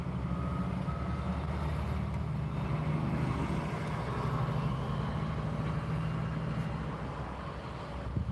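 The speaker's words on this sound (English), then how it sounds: "we got a Kenworth T660 blue one headed north with a dry bulk trailer" A blue Kenworth T660 hauling a dry bulk trailer rolls past northbound on a highway, its deep diesel rumble loud and steady throughout before easing slightly at the end.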